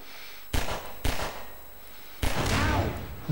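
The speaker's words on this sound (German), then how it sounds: "schieß mal zweimal mit der Pistole das Fass an" Two sharp, loud pistol shots about half a second apart in Half-Life 2, fired at a barrel, followed by a longer booming burst that rumbles and fades.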